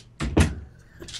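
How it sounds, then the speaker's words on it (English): A room door swings open with a soft thud and a brief latch knock, followed by faint rustling; heard indoors while someone is blow drying their hair. "No, my door just opened again."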